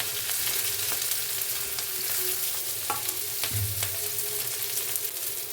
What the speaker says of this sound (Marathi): कांदा टाकून घेतल्यानंतर लगेच तो असा आपल्याला हलवून घ्यायचा आहे तो तेलात परतण्यासाठी